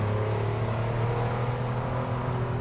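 A Mk1 Audi TT engine hums loudly from inside the car as its revs fall, a dense continuous drone that eases slightly toward the end, with no speech over it.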